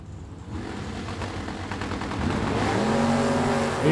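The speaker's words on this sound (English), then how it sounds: "The Nova in the right-hand lane, down in a 591 and 613 for Joel Young's Camaro in the left lane" Drag racing cars, a Nova and a Camaro, launching down the strip at a Super Pro event, engine roar building from a rough idle into a loud, rising rev.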